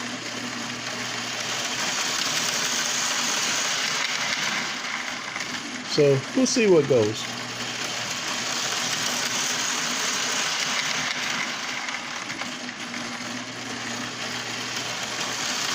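A Marx toy train engine runs steadily while pulling an Allstate dome tank car, giving a constant low motor whir and track hum throughout, with a brief clatter in the middle and a short spoken remark.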